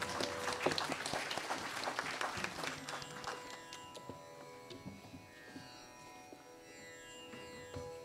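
Faint applause from a concert audience welcoming a madal player onto the stage, a dense patter of clapping that thins out and fades into quiet room tone.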